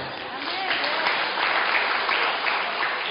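A church congregation at a Sunday sermon breaks into applause, a dense, steady burst of many hands clapping together that stays loud for the whole few seconds.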